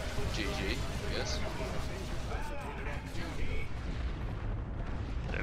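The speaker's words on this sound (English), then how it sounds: "I just dropped a creeping barrage" Rumbling booms of a creeping artillery barrage in a multiplayer video game, dense heavy explosions rolling continuously under nearby talking voices.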